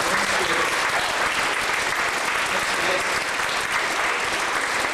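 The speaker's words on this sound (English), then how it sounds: "Let's give these students a warm round of applause for walking up." Sustained, loud applause from an audience honoring students at a Toronto charity event, dense and steady throughout with no break.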